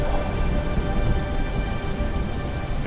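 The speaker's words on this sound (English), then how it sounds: "It rains," Steady rain falls on a dark, dreary day with wind about, a dense continuous hiss of drops spattering on surfaces, loud and even throughout with no voices.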